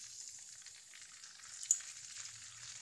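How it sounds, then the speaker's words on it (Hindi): Cumin, mustard seeds and curry leaves fry in hot oil with a faint, steady sizzle and one small pop, heard close and alone. "इसी में मैं ज़ीरा और ये डाल दूँगी मस्टर्ड सीड्स और करी लीव्स यहाँ पर हम ऐड कर देंगे।"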